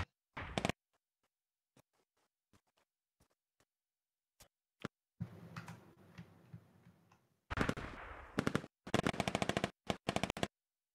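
Bursts of enemy machine gun fire in Squad, a sustained distant rattle preceded by scattered single shots and followed by several rapid, loud clusters of automatic fire, with no talk.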